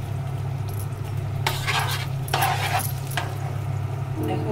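Butter frying gently over low heat in a pan for chicken buns, a soft steady sizzle under a low hum, broken by a few clinks and stirring scrapes of a utensil.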